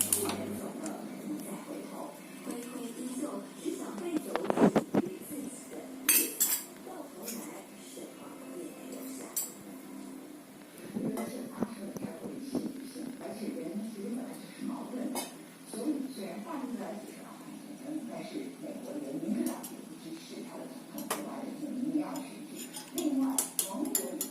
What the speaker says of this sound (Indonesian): Lalu aduk-aduk sampai rata.